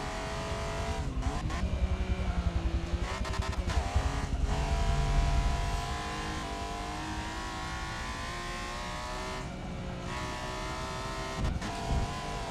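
Supercharged race car in the Forza Motorsport video game, its engine loud and continuous as it accelerates hard, revs climbing and dropping with gear shifts and brief lifts, with no talk.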